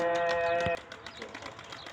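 Young tumbler pigeons make soft calls and wing flutters close by. A short tonal call rings out at first, followed by faint rustling and light flapping.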